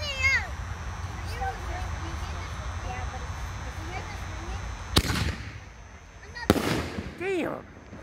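Two sharp, loud Red Strobe canister shell firework bursts crack out a second or so apart outdoors, each followed by crackling, with voices talking throughout.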